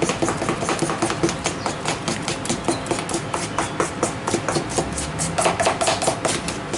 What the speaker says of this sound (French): Je remue encore un peu.